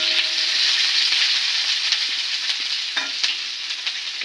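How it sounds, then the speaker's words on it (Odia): Chopped onions fry in a pan for a mushroom curry, a steady bright sizzle with scraping stirs of a spoon breaking through now and then, close and alone without any voice. "ଆମେ କାଟିଥିବା ପିଆଜ ପକେଇଲେ ସମୟ ଘାଣ୍ଟି ଦିଅନ୍ତୁ ଭଲ ଭାବରେ ପିଆଜ ନାଲି ପଡ଼ିଲା ପର୍ଯ୍ୟନ୍ତ ତାକୁ ଘାଣ୍ଟନ୍ତୁ"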